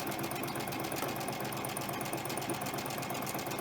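A sewing machine runs steadily, chain stitching quilt pieces for flying geese blocks with a 12-inch needle and 2.5 stitch length, a continuous close mechanical whir with fast even clatter and no talk.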